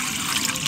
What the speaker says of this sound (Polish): Wlewamy ciepłą wodę do miski.